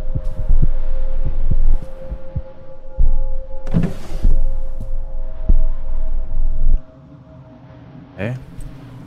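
Regular heartbeat thuds in the horror video game From The Darkness, pulsing steadily over a low hum, with a player's voice talking and a brief burst of noise partway through before the beats fade quieter.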